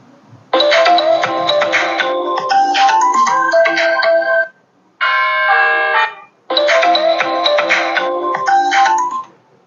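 A custom bark ringtone plays on an iPhone as three loud bursts of bright, chiming electronic tones, separated by brief gaps, with no voices.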